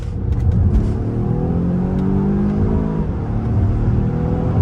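A 2021 Volvo XC60 T8 Inscription Pro accelerating hard onto a dual carriageway, heard from inside as a loud rising engine drone with climbing tones that shift near the end.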